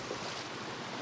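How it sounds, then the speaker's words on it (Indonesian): The flooded, overflowing Citarum river rushes in a constant churning roar, near and unbroken, with slight wind buffeting and no speech. "Sungai Citarum meluap."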